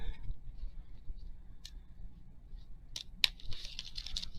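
Scissors snip through strips of newspaper at a table: a few quiet, sharp cuts spaced apart, including a crisp snip near the end, over a faint low background hum.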